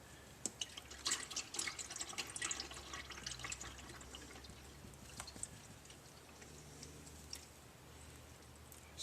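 Automatic transmission fluid draining from a 2008 Subaru Outback, a steady faint trickle with scattered drips and small splashes into a pan, continuous and alone for the whole stretch.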